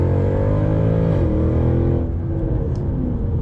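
Mercedes C63 AMG accelerating in Comfort mode on a slip road, its engine droning up in pitch with an audible gear change dip partway through, heard loudly from inside the car.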